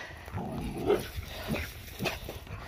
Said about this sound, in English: And we have an unruly dog that don't know how to behave.